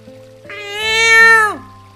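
A cat in the video game Final Fantasy IX gives a single drawn-out, high meow that swells and then drops off, loud and close over a faint steady background hum.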